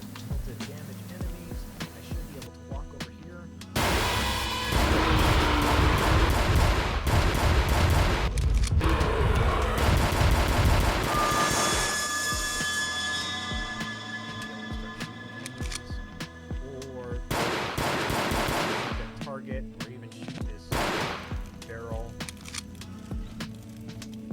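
Handgun gunshots in a Unity video game, a series of loud synthetic shots and booms over looping game music, dense in the middle and thinning toward the end.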